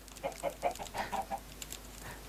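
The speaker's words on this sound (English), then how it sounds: "And a little family of chickens." Chickens cluck in Minecraft in a quick run of short, repeated calls, fairly close, with a brief pause before a final cluck.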